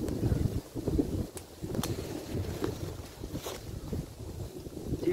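Cold wind gusting across an open hilltop meadow, a steady broadband rush that swells and buffets the microphone in low rumbling waves, with a few faint higher hisses and rustles.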